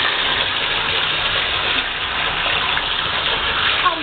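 Bath water runs steadily into a tub in preparation for bathing pet ferrets, a continuous close rushing gush that stays even throughout with no pauses.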